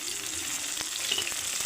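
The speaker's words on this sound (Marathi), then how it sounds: "कांदा चांगला परतून घ्या" Chopped onion sizzles in a pan for chicken pulao, an even frying hiss with a few soft stirring knocks, close and steady, no talking.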